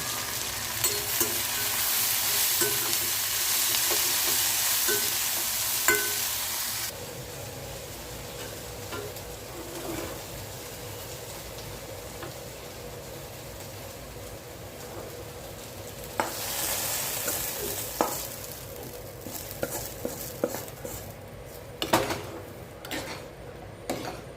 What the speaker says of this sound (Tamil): நல்லா பொரிஞ்சு வரட்டும்